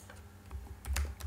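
Fingers type on a computer keyboard in a quick run of soft, close keystrokes, heard alone without talk.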